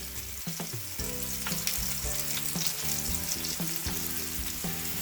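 Japanese-style hamburger patties frying in a pan: a steady, close sizzle that runs the whole time, broken by a few clunks and scrapes as the patties are pressed and turned. No voices.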